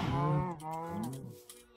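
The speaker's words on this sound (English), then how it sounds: "Getting a lot of cows, which is good" Cows moo in a Minecraft-style UHC match, two drawn-out lowing calls one after the other, loud and close, with game sounds behind them.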